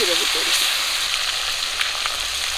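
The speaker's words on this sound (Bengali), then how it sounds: "এবারে মাছের মাথাগুলো ভেজে নেবো" Large fish heads from a giant 18 kg carp fry in hot oil, giving a steady, loud sizzle and hiss throughout, with no voices heard.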